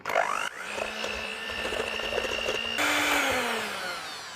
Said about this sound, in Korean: 계란 흰자 머랭해 주었던 핸드믹서로 일단 이걸 좀 믹스해 주겠습니다